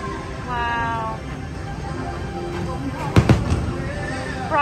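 Fireworks at Magic Kingdom go off with a couple of sharp bangs and crackles midway through, heard under a crowd and talking voices nearby.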